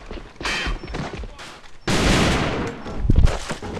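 Gunfire in a first-person shooter video game, bursts of shots in two loud clusters with a sharp onset near the middle and heavier reports toward the end, no talking.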